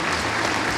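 A large audience at an event honoring prostate cancer charity work bursts into loud, dense applause, a continuous roar of many hands clapping together.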